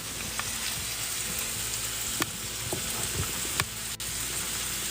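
Food sizzles and fries steadily in a skillet while lunch is cooked on a rainy day, a dense continuous crackle with a few sharper pops and utensil clicks and no talking.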